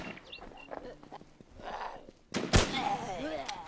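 Gunshots in the survival shooter Infestation: Survivor Stories, on the Frosty Pines map, with one loud sharp blast near the middle after quieter game noise, and a voice talking through it.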